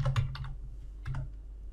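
Keys on a computer keyboard being typed, two short bursts of clicky keystrokes about a second apart, close and fairly quiet, with no talking.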